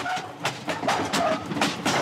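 A crowded passenger train moving through Congo, with rhythmic rattling clatter and periodic metallic clunks from the cars, fairly close and moderately loud with no voices.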